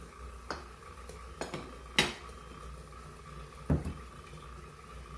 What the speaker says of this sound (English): So we're beating that till it's nice and fluffy